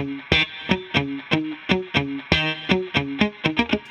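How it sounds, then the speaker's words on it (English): Electric guitar notes picked in a steady rhythm through a Vox AC30 amp simulator, each one distorted and shimmering with amp-style effects, played alone. "Now I'm going to turn on the Amp Simulator, and it's going through a Vox AC30"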